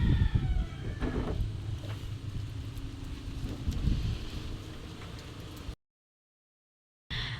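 Steady gusty wind rumbles and buffets the microphone, with a brief dropout of silence near the end before the blustery noise resumes.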